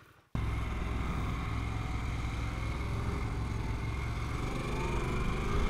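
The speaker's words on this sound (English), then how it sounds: "All right, here we go on the Pan American 2023 Special Harley-Davidson." 2023 Harley-Davidson Pan America Special motorcycle under way, a steady, loud engine drone with wind rush that starts abruptly after a moment of quiet and holds evenly throughout.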